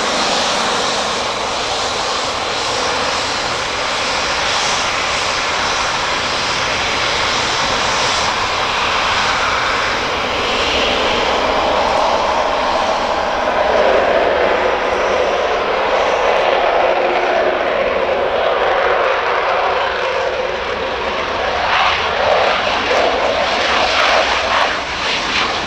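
RAF Eurofighter Typhoon jets depart Prestwick airport with a loud, sustained roar of jet engines that holds steady and swells slightly as they take off, with no speech heard.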